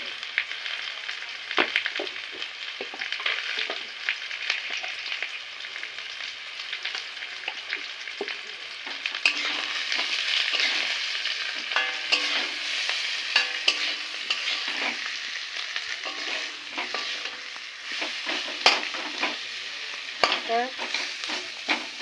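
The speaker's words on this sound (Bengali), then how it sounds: "একটু এরকম করে ভেজে নেবো আলুর চোখাটা রেডি হয়ে আসছে কড়ার গা থেকে ছেড়ে ছেড়ে যাচ্ছে" Mashed potato (aloo chokha) with chilli and spices being fried and stirred in a pan, soft continuous sizzling with repeated scraping and stirring strokes, moderately close and without talk.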